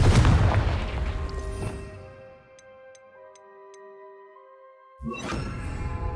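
In Hogwarts Legacy, the Confringo fire spell sets off a loud booming blast that decays into ringing tones and a few soft ticks, then a second sharp burst erupts near the end.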